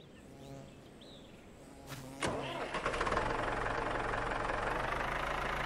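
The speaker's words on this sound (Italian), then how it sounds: "andiamo a caricare il trattore che beve come una spugna" A tractor engine in the farming game Farmer's Life cranks and starts after about two seconds, then settles into a loud, steady running drone with a knocking texture.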